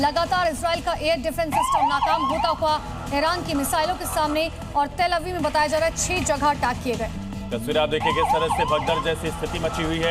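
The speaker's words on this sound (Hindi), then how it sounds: "सायरन की आवाज गूंज रही है" Emergency sirens wail and rise and fall in Tel Aviv during an Iranian missile attack. They carry on steadily under continuous news narration.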